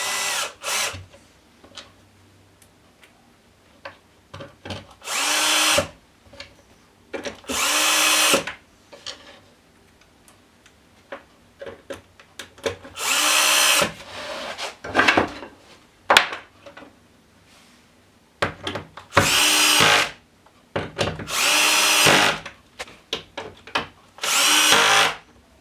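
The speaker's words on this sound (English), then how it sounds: "if you're going to use a screw gun, be certain to turn your torque way down low" A screw gun set to low torque drives small screws into a Festool Systainer cabinet, with repeated short whirring bursts of a few seconds each separated by quiet pauses and light handling clicks, close by and without talk.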